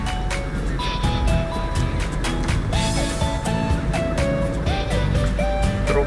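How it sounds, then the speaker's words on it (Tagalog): Loud car stereo music blaring from an Isuzu Trooper in heavy traffic on Aurora Boulevard, steady melodic tones and thumping bass over continuous road and engine noise. "yung trooper nga ang medyo malakas ang stereo"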